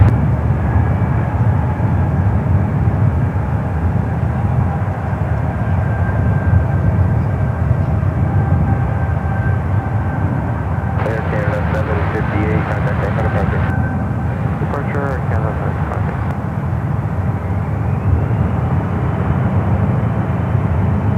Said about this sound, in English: Air Canada Airbus A220-300 now taking off to a left.